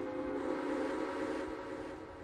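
A steam whistle from a Garrett locomotive in the railway game Railway Empire sounds a steady, sustained tone that holds for the whole stretch without a break, loud and alone with no voices over it.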